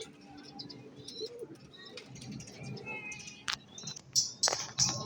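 Pigeons coo softly in a backyard flock at dawn, low murmuring calls mixed with scattered chirps and a few sharp knocks, while a person speaks quietly nearby.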